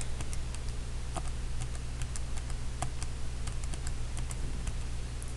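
Rapid, irregular clicking of keys pressed on a calculator keypad, close and fairly quiet over a low steady hum, with no talking.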